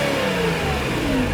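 A 1990 Honda NSX's mid-mounted V6 VTEC engine revs steadily, loud and close, a continuous rising engine note with no voices.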